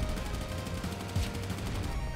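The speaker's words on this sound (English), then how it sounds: "Another machine gun? Let's go." Machine gun fire in the action platformer Corebreaker, a rapid, continuous stream of loud synthetic gunshots with a steady fast rhythm that stays dense for the whole stretch.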